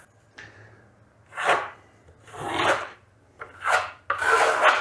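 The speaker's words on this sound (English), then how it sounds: "we're just going to put a little bit on like so and start troweling" A trowel spreads a second, thin coat of Vasari Veneziano plaster, making four or five separate rasping scrapes that rise and fall one after another, close and fairly soft, with quiet gaps between them.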